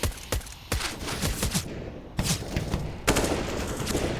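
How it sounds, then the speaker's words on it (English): Rapid bursts of rifle and pistol gunfire echo through a Counter-Strike match on the Overpass map, sharp volleys clustered in several loud salvos with brief gaps between them. "They're hearing all that gunfire"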